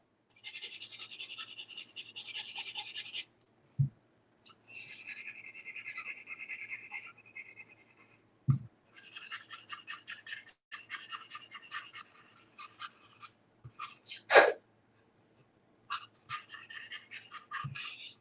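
Hand sanding with fine 320 grit sandpaper on a craft hat box, close and dry, in bursts of quick rasping strokes separated by pauses and a few light knocks.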